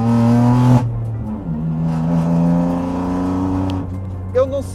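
Kia Picanto race car fitted with roll bars and a modified exhaust, its engine droning loudly and close with steady revving tones while someone talks over it.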